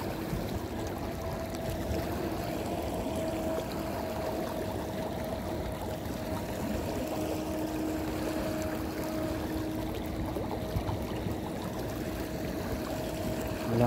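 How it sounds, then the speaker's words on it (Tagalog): A strong river current flows in a steady, unbroken rush of water, moderately loud and close, with a faint tonal hum beneath it and no voices. "Malakas talaga yung agos dito mga kadudoy."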